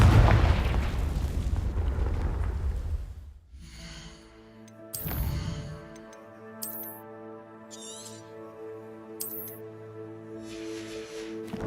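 The Confringo blasting spell is cast at dry vines in Hogwarts Legacy: a heavy, rumbling fiery blast that dies away, then a second sharper burst, followed by sustained musical chimes and tones.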